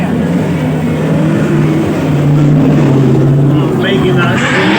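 A drift car, number 77, revs hard in front of the grandstand at a drift racing event, its loud, sustained engine note rising and holding with a commentator talking over it.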